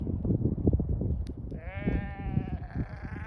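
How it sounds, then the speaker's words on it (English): Sheep bleating out on a snowy winter pasture during grazing, a drawn-out wavering bleat rising over steady low wind or trampling noise and continuing to the end. "Yeah, sheep."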